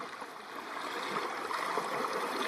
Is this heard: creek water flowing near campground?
yes